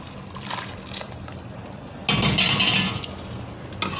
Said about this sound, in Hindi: अब इसमें ये पानी डाल दिया है